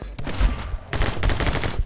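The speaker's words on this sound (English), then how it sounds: "This guy had a shotgun." Rapid bursts of shotgun fire in My Friend Pedro, loud and close, several sharp blasts in quick succession over about two seconds.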